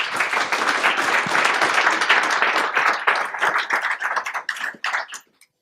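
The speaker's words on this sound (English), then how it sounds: "All right, ladies and gentlemen, please giving a round of applause for David Hoang." Audience applause for a speaker at SwiftConf 2017, a dense wash of many hands clapping that holds steady, then thins into scattered claps and fades out near the end.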